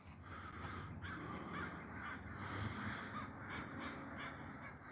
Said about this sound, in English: I don't know if you can hear all that crow chatter coming through on the mic, but they're really talking today.